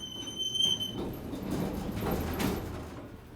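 A Schindler Miconic TX (500A) elevator door slides along its track in a building in downtown Akron, a nearby rumbling glide with a faint squeal, preceded by a brief high electronic tone.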